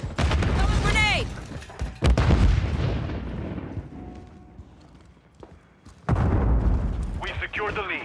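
Explosions and gunfire from Call of Duty Modern Warfare 3 in a Team Deathmatch on the Rio map: loud booming blasts at the start and again near the end, with a quieter stretch between and in-game voice lines over the top.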